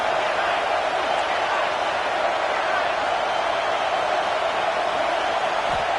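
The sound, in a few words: football stadium crowd noise on fourth down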